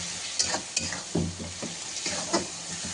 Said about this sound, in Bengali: সব মশলাগুলো মিশিয়ে নিই।